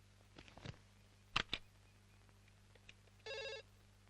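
A landline telephone rings in a single electronic trill burst near the end, following a few sharp clicks and knocks, heard clearly alone.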